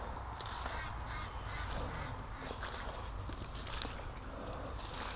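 Free-range ducks quack and honk amid a dense, noisy outdoor wash, the calls scattered and somewhat distant, as they are herded from their pen toward the water.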